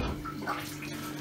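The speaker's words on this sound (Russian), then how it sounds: "Так, включаю воду." Tap water runs steadily while home-brewed beer is being cooled, a continuous close hiss and splash with no talking.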